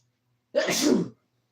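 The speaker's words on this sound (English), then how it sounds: "Sorry, you was sneezing." A single sharp sneeze, close and sudden, lasting about half a second against near silence.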